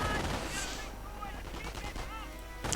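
MG42 machine gun fire in a World War II strategy video game, rapid bursts of gunfire mixed with battle noise and game effects, with a voice talking over the action.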